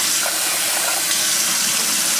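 Cold tap water pouring steadily over rice being washed and rinsed, a loud, close, continuous hissing gush with no pauses.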